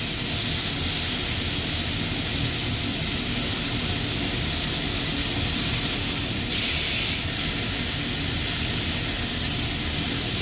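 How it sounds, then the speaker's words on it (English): A hanger steak sears in a cast iron skillet with a loud, continuous hiss and sizzle that holds steady throughout, close by and free of talk. "when I cook on a cast iron skillet like this, I try to just get proper crust everywhere."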